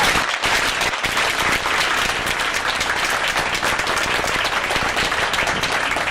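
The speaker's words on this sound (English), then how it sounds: "Let's give these students a round of applause for their great achievement" An audience at a graduation ceremony applauds the graduating students, dense sustained clapping from a crowd that fills the whole stretch.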